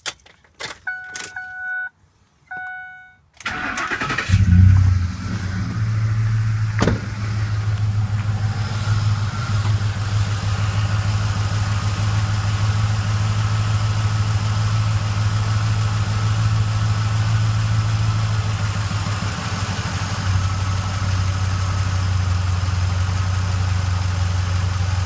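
After a few chime beeps and a moment of silence, a 2004–2010 Ford F-150 Triton V8 cranks and fires with a loud rush, then settles into a steady, low rumbling idle that continues close and unbroken.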